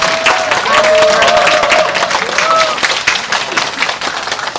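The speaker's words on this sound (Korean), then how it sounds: "박수로 환영 부탁드립니다." An audience claps to welcome a speaker at a community project results-sharing event, with steady, fairly loud applause throughout and some voices mixed in.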